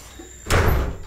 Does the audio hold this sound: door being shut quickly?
yes